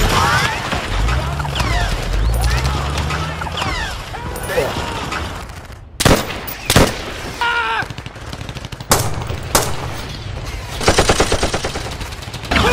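Bursts of gunfire and machine-gun rattle in a plastic toy army men battle, loud and close, with sharp single shots and rapid volleys breaking through talk and music.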